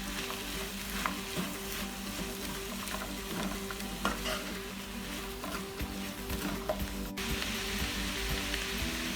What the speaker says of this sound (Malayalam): ഇപ്പം ആവശ്യത്തിന് നമുക്ക് നല്ലതായിട്ട് ഇളക്കി കൊടുക്കാം.